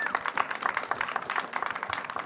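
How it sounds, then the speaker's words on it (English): An audience claps for panelists at a gear show, a dense patter of many hands rising and falling over a couple of seconds. "Can I get a quick round of applause?"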